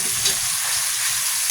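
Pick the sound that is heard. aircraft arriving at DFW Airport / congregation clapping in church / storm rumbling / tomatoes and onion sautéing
tomatoes and onion sautéing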